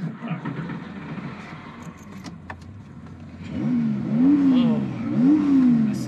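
Air-cooled engine of a 1971 Porsche 911T or a 1972 Porsche 911 with a 3.2 short-stroke engine on a canyon road: a low idle, then several loud revs climbing and falling in pitch as the car pulls away close by.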